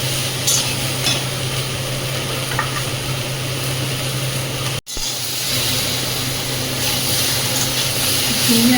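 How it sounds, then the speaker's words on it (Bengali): Ridge gourd and potato frying in a pan, stir-fried for a while: a steady, loud sizzle and hiss runs throughout, with a brief dropout near the middle and no talk. "ঝিঙে আর আলুটা কিছুক্ষণ কষিয়ে নিয়েছি"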